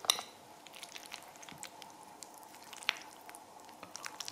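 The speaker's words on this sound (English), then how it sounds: "I'm stirring it around for you because you haven't mixed it" Macaroni and cheese stirred with a spoon makes faint, wet squishing and sticky squelches, soft irregular clicks of the spoon in the pot, close and quiet without talk.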